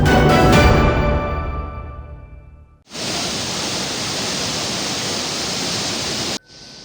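Piala waterfall near Luwuk in Banggai regency roars as a loud, steady wash of rushing water. It follows a fading musical tone and stops abruptly near the end.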